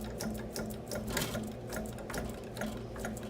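A hand-cranked hydraulic press is tightened to press drill cuttings into XRF pellets, giving a steady, rhythmic mechanical clicking and ratcheting close by with no one talking.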